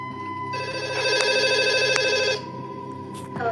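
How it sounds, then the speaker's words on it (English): A phone rings during dinner at home, a steady electronic ringtone of layered tones sounding loud and close for about two seconds, then cutting off into quiet room noise. "Just as we start dinner, my phone rings."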